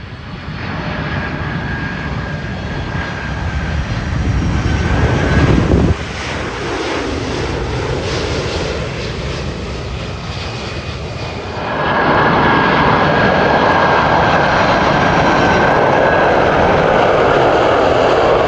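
A Boeing E-4B military aircraft passes overhead near Washington, its jet engines a steady loud roar that swells and shifts through the pass, with wind buffeting the microphone and no voices.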